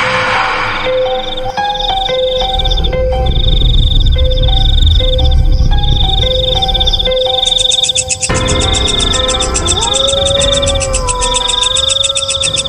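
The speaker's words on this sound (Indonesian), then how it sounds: "suara jangkrik terdengar di mana-mana dan suara hewan malam" Dense night chorus of trilling frogs or insects, with repeating pulsed calls and rhythmic chirps layered together, loud and continuous.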